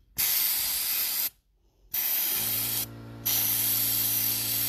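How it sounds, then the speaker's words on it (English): A baking soda sprayer blasts a vintage wooden furniture leg down to raw wood, giving loud, close, steady hissing bursts that stop briefly and resume, with a low mechanical hum underneath later on. "We're going to soda blast the leg on this piece to get it to the raw wood."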